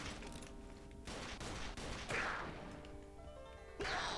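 Heavy Magnum pistol shots ring out in the shooter game Eat Lead, several sharp blasts landing amid a busy, cluttered backdrop of impacts and game noise.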